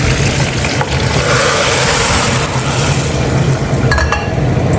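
Hot ghee sizzling steadily in a pan during cooking of a simple dal, a constant close frying hiss with faint stirring clinks, no talking.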